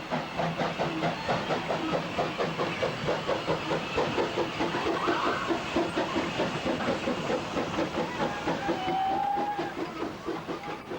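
A steam locomotive labors up a steep 1-in-37 gradient with a steady, rhythmic chuffing and hissing, loud and close, continuing throughout with a brief whistle-like tone near the end.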